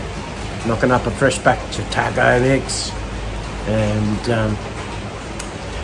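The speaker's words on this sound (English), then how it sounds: "The background sound you can hear is rain." Steady drizzling rain in Thailand forms a constant soft hiss in the background while someone talks over it.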